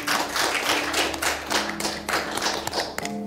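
Audience applause for a contestant named Katka placing fourth in a Slovak shopping-show fashion-designer episode: a steady, moderately loud patter of clapping hands filling the whole moment, with a few sharper thuds and a faint tonal hum underneath.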